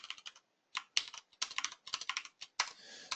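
Keys on a computer keyboard clatter in quick, uneven bursts as Arduino code is typed, close and distinct, broken by brief gaps and with no speech.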